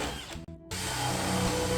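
A power drill bores a hole for a dowel into a wooden shelf, running loud and steady near the mic after a brief pause in the motor.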